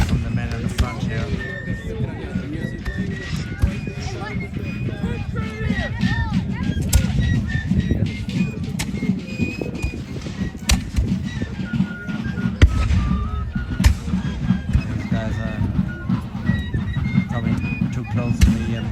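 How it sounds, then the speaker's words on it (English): Sporadic gunfire from reenactors in the assault on Breeds Hill: scattered sharp cracks and pops, some distant and some nearer, over a continuous noisy crowd and outdoor background with voices. "There's some sporadic fire from the men in the front here"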